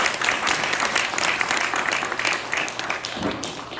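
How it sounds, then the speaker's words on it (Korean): Sustained audience applause fills a Korean church-union special prayer meeting as a lawmaker is welcomed up to give a congratulatory address, steady dense clapping from a crowd throughout. "박수로 좀 환영해 주십니다."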